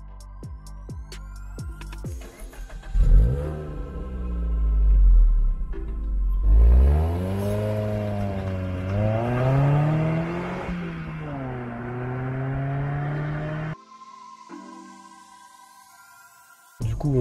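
A Suzuki Swift Sport pulls away onto the road, its engine revving up through the gears with rising and falling tones, loud and close from inside the car, then easing off before a brief burst of wind noise.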